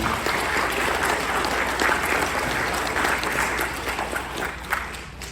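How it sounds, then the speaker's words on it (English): An audience at a UFO festival in Wytheville breaks into sustained, dense applause, loud and even throughout, easing slightly near the end. "Can you give them a round of applause, please?"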